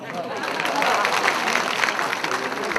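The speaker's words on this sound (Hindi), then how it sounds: "मैं बहनों की ओर से तालियां चाहूंगा" An audience at an outdoor folk music gathering during a religious fire ritual breaks into sustained applause, a dense, steady wash of many clapping hands, with voices mixed into the crowd noise.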